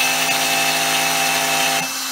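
A new router on a 4x8 CNC machine cuts arcade cabinet parts, a continuous high whining drone with steady tonal hum that holds for about two seconds before easing slightly, no talk over it.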